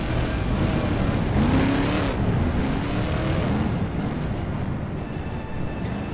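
F1 stock cars rumble together in a bunched rolling start at a raceway, a loud, steady, rough engine roar with rising and falling tones as the pack passes, filling the whole stretch.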